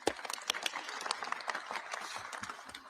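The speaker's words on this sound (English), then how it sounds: "Would you please give him a warm round of applause?" An audience applauds a Minneapolis City Council member from Ward 9 at a public gathering, with dense steady clapping throughout and a few sharper claps standing out.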